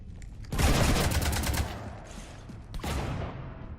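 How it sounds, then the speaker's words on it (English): Rapid gunfire tears into a starship in the Mass Effect 3 video game: a dense burst of shots starts after half a second, fades, then a second shorter volley hits near the end, loud with no talk. "You want to stop shooting up my ship?"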